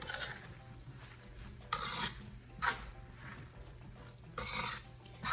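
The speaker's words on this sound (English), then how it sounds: "I'm just gonna give it a stir so you can get like that hint of green" A spoon scrapes and stirs saltfish in a pot, several short rasping strokes at irregular intervals, close and fairly loud.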